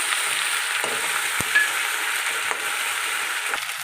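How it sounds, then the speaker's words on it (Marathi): Cumin and garlic paste frying in a pan, a steady close hiss and sizzle with faint stirring scrapes throughout. "एक चम्मच जिरा अग लसूणची पेस्ट चांगलं भाजून घ्यायचं"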